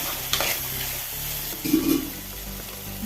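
Onion and tomato sizzle steadily in a pan for a crab curry, with brief scraping stirs and a soft clatter partway through, close and continuous.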